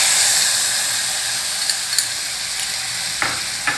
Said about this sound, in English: a pinch of jeera or cumin seeds and a teaspoon of this cashew nuts. Just fry the nuts a little bit.